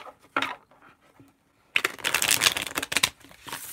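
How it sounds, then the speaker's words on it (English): Tarot cards are riffle-shuffled in a short burst, a brief pause follows, then a longer, louder flurry of shuffling. "Oh, one more shuffle, they say."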